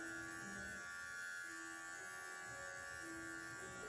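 Electric dog clippers trim a poodle's face near the eye, giving a steady high buzzing whine that runs without a break, quiet and close.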